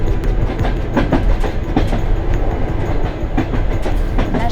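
A railway passenger wagon rolling along the rails, loud continuous rumble with rhythmic clickety-clack of the wheels throughout, recorded from inside the carriage.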